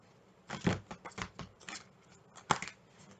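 Short bursts of papery riffling and flicking, like cards being shuffled close by, quiet with brief pauses between.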